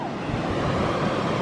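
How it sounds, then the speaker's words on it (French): Big ocean surf on an Australian Sunshine Coast beach rolls in as a continuous broad roar of breaking waves, close and loud, mixed with wind rumble and no voices. "on se baigne avec des vagues de 3 mètres voire 4 mètres"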